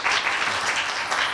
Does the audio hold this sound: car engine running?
no